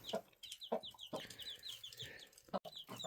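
A hen clucks close by and faintly, in short repeated bursts over the high peeping of several winter chicks.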